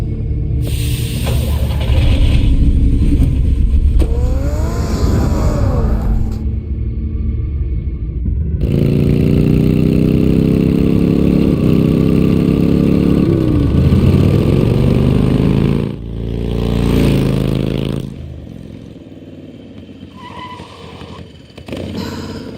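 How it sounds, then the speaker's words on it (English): A car engine runs in a Batman video game, loud and close, with rising and falling revs, whooshing passes and sudden cuts between bursts. "Get the car ready, Alfred."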